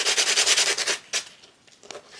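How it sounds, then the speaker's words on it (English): A small sanding sponge rubs over a paper mache rhino mask in quick rhythmic back-and-forth strokes, close and scratchy, followed by a few slower, lighter passes. "I've just got a little sanding block."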